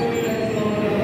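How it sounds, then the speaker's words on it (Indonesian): The Ranggajati passenger train from Cirebon rolls into a station on track 2, a loud steady rumble of wheels and carriages with faint high squeal tones above. "kereta api Ranggajati dari Cirebon tujuan akhir Jember. Masuk di jalur 2."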